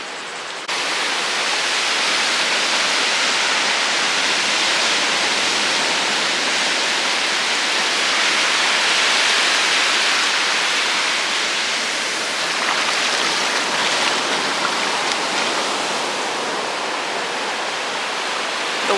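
Calm sea water washing at a beach, a steady broadband wash with gentle surges that continues throughout at a fairly loud, close level, with no voices.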